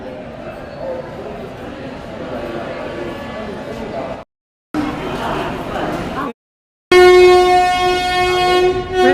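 The Narmada Express (18233) departs from Bhopal alongside the Pench Valley Express with a steady rumble of rolling wheels and carriages, broken by two brief dropouts. A loud, close, sustained train horn blares at the end, with speech mixed in.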